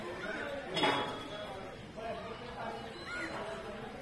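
Ambil prasad being served from vessels at a temple gathering in Adamapur, Kolhapur, with scattered clinks of dishes and glasses under nearby chatter and a speaking voice.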